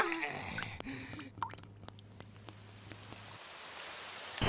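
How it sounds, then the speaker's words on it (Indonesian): Rain falls in a Doraemon cartoon as a soft steady patter with scattered sharp drop ticks, fairly faint and continuous, under a low background hum that stops partway through. "Hujan!"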